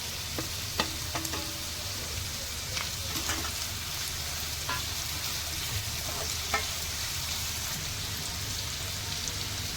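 Chopped onion and tomato sauté in hot oil for a Maharashtrian prawn curry, a steady close sizzle broken by occasional clicks and scrapes of a spoon stirring the pan.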